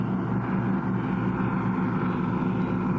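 A steady, deep engine roar drones continuously, like a powerful motorboat running nearby at constant throttle.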